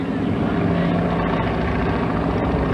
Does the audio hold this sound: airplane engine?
yes